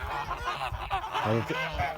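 Kholmogory geese by a stream give a busy run of nasal honks and gabbling calls, several birds close by overlapping one another in quick irregular bursts.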